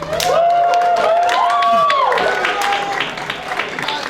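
A supportive live show audience cheers and claps, with whoops and voices rising into a loud burst of vocal cheering over scattered applause, then settling down.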